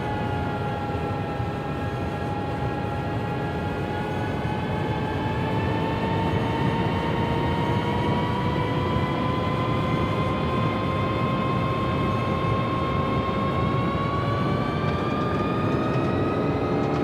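An Avianca Airbus A320neo in a flight simulator game spools up for takeoff, its engines giving a loud, steady roar with rising whining tones that climb slowly throughout, with no voices.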